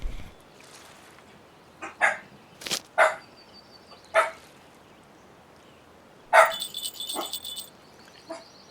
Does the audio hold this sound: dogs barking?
yes